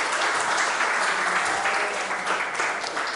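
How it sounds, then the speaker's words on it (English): A crowd claps steadily for a few seconds, a dense wash of applause at even loudness that tapers slightly toward the end. "Come on, let's give a clap for that."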